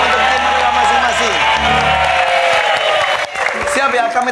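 Studio audience of a Family 100 game show clapping and cheering for six contestants, a steady loud wash of applause with crowd noise throughout.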